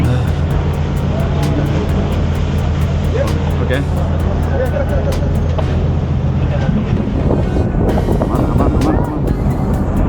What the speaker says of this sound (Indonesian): Ini sedang bergoyang, angin besar.